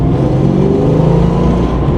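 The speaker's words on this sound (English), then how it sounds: "she likes to get those tires loose" A Foxbody Mustang roars up close in a loud, steady drone of engine and tire noise, as though it is spinning its tires under hard acceleration over a couple of seconds.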